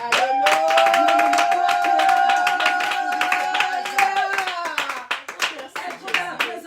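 A church congregation claps in a steady rhythm and cheers for Jesus, with a sustained sung or shouted tone over the clapping for several seconds before it breaks into looser, scattered claps.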